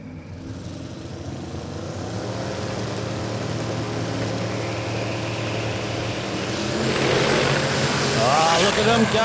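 Land Cruiser drag racing on a no-prep strip, fitted with a 1,000 kW turbocharged diesel V8: a steady loud engine drone with harmonic bands that swells near the end as the run builds, people talking over it.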